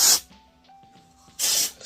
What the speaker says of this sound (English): to spray a little dry shampoo on it.